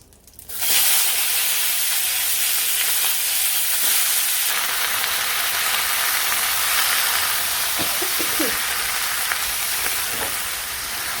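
Vegetables dropped into hot oil with cumin hiss and sizzle loudly in a pan, a steady close-up frying roar after a sudden start, with faint clinks of stirring.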